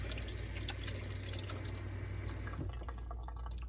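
Running water splashes steadily from a tap as a found object is rinsed off at the shore near Newport, a close continuous rush that shifts to lighter trickling and drips near the end.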